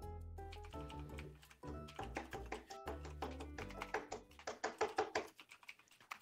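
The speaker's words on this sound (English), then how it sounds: "I hear someone typing their keyboard." Rapid computer keyboard typing heard during an Animal Crossing New Horizons livestream, a dense run of sharp clicky taps of varying loudness, close to the microphone, with no talking over it.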